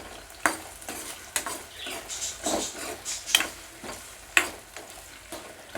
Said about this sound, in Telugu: ఈ ఆనియన్ చక్కగా వేయించుకోవాలండి